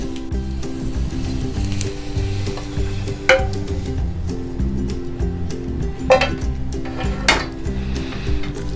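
Pizza omelette being dished out of a frying pan onto a plate, with a steady sizzle under a few sharp clinks and scrapes of a utensil against the pan.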